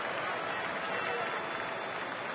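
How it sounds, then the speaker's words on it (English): Baseball stadium crowd during a Cubs at Brewers game in Milwaukee, a steady distant roar of cheering and clapping, broad and even with no clear peaks. "Crowd trying to rev up a little bit."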